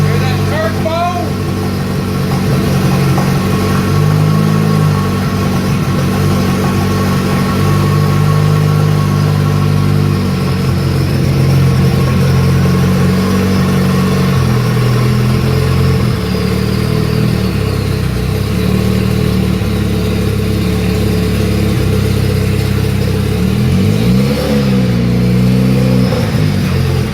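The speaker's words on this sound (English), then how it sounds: "Hear that turbo?" A turbocharged four-cylinder Camaro engine running steadily, loud and close, with a wavering mid-pitched drone, small rev changes and a faint turbo whine layered on top, while people talk nearby.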